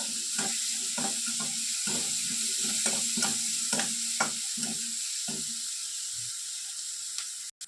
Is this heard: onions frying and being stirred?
yes